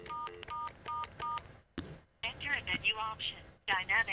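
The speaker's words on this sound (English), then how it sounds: "You're hearing the dial tone." Touch-tone dialing beeps from an analog phone handset connected through a Grandstream HT801 adapter, a quick series of paired tones followed by warbling ring-like tones, faint and separated by short silences.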